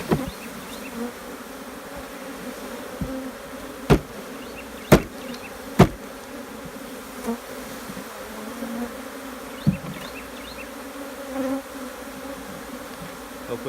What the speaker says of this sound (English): I'm just gonna dump the bees into the box